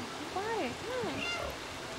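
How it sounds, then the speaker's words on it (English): Cats in the video game Stray give several rising and falling meows, overlapping one another, over a faint watery background hiss. "Oh, it's just a bunch of cats"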